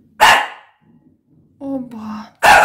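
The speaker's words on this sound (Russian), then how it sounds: "Сейчас будет лаять, лаять," A village dog gives a loud, close, sharp bark, then a voice is heard, then another loud bark.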